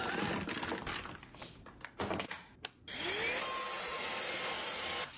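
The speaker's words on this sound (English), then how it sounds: "That vacuum's also very expensive." A vacuum cleaner whirs with a dense, loud, steady roar that drops out briefly with a few clunks, then resumes at full power through the end.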